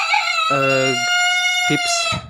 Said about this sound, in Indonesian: Kalau dia lihat kamera kayak gini, dia pasti kokok.